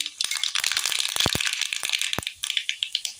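Mustard seeds spluttering and popping in hot oil in a cheena chatti, a dense burst of sharp crackles and pops that thins out into scattered snaps near the end.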